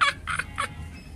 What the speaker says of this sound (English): Oh look, I love your cock-a-doodle-doo.